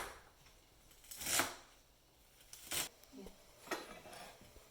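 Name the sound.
cutting kale stems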